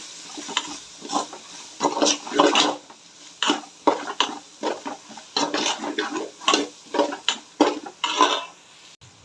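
Chicken masala, garam masala and chilli powder being stirred in a pan, with repeated scraping strokes and metallic clatter over a soft frying sizzle.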